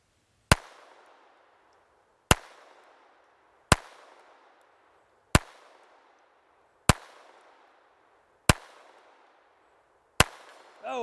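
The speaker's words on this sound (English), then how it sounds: "I'm gonna try to hit that little bitty 6-inch plate at 50 yards" Seven sharp pistol reports from a Walther P22 ring out at evenly spaced intervals, each with a short decaying echo, as shots are fired at a small 6-inch steel plate 50 yards away outdoors; no talking.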